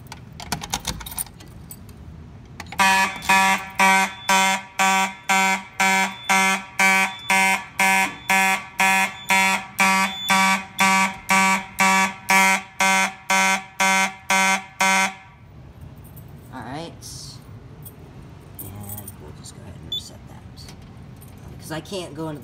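Mechanical horns on a newly installed fire alarm system sound during a test, blaring in a steady pulsing pattern of about twenty-five loud close blasts before stopping, with faint room noise and a voice after.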